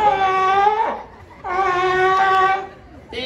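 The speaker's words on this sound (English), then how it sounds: "He was just demonstrating that typical barking or roaring noises that sea lions will make." A sea lion at a Long Island aquarium show gives two long, loud, tonal barking roars, separated by a brief pause, with the start of a third at the end.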